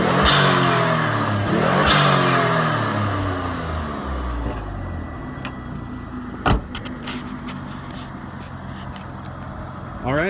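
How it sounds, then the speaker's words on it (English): Turbocharged Mitsubishi 3000GT VR4 in Martinique Pearl revving hard, its engine note sweeping up and down before settling, with a short loud burst of turbo whoosh partway through and clicks and knocks afterward. "Makes the loud whoosh noise that everybody likes with the turbocharged cars."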